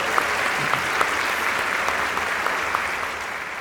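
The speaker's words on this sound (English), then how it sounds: "So I think you get the first round of applause here today." A conference audience at a keynote bursts into steady, sustained applause, a dense wash of clapping heard throughout with no talking.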